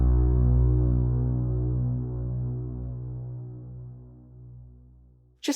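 A deep, low BRAAM drone with RAAM reverb added, swelling and throbbing with rich harmonics and a long wash of space, then a brief click at the end.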